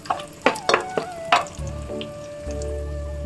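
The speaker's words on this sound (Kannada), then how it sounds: "ದ್ರಾಕ್ಷಿನೂ ಒಂದು 2 ನಿಮಿಷ ಫ್ರೈ ಆಗಲಿ." Raisins fry in a pan for rava laddu, with a steady close sizzle and several sharp spoon clinks and stirring knocks against the metal.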